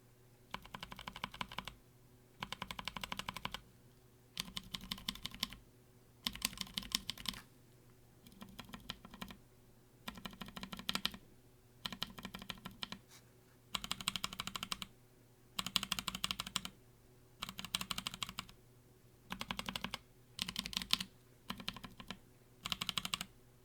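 Mechanical keyboard with lubed, TX Film–filmed tactile switches, including NovelKeys Blueberry, typed in repeated bursts of rapid close clacks separated by short pauses, no voices.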